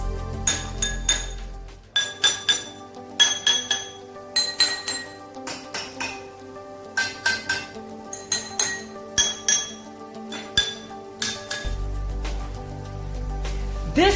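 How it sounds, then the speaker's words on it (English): A spoon strikes the rims of water-filled drinking glasses, giving bright ringing clinks in quick clusters with short pauses between, each tap sustaining a clear pitched tone that fades slowly. "we will take a spoon and strike the top of glass with the spoon"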